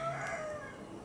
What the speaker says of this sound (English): good morning, chickens.